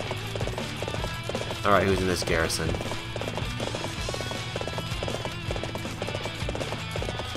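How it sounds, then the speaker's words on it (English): A horse gallops with rapid, rhythmic clip-clop hoofbeats through the Battle of Changban in the video game Dynasty Warriors 7, mixed with a brief whinny and game sounds, while someone talks over it. "I'm just running around on my horse"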